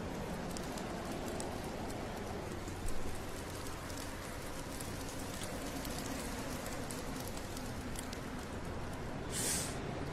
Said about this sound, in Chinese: 你们看，外面下雨了